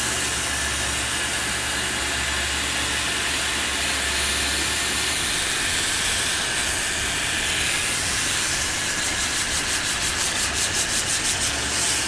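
Hand sanding with fine 400 grit sandpaper, a continuous close rough rubbing hiss with quicker rhythmic back-and-forth strokes toward the end.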